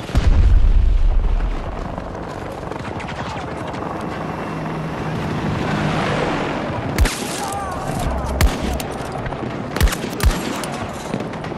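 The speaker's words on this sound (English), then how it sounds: "Grenade! Explosive in place!" Grenade blast in the Battlefield 2042 shooter game: a heavy low boom opens, then sharp cracks and scattered gunfire follow over a steady helicopter-like drone and battle din.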